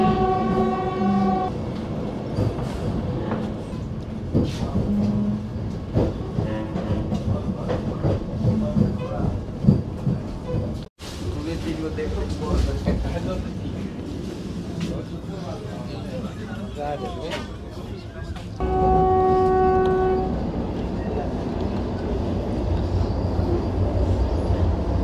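A Vande Bharat semi high-speed train runs from Siliguri toward New Cooch Behar on a cold, foggy morning, its steady rolling rumble and rattle continuing throughout, with voices talking over the noise.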